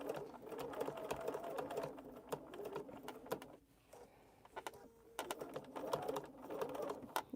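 A home sewing machine running stitch bursts while quilting a fabric bowl, steady mechanical whirring that stops briefly midway then resumes, near and moderately loud.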